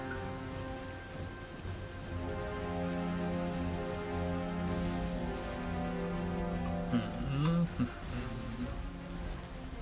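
Steady rain pours on surfaces as a sound effect in a dark tabletop role-playing scene outside a cave, a soft, continuous hiss under low sustained music, with a few brief louder knocks near the end.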